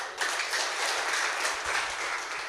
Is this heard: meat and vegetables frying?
no